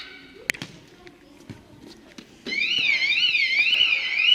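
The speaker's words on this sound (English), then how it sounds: "he's kicked the scooter and set off the alarm" A scooter's electronic alarm set off when a child's kicked soccer ball strikes it outside a hotel: a few thuds and knocks, then a loud warbling siren starting up and continuing close by.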